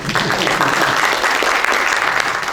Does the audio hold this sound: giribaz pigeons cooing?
no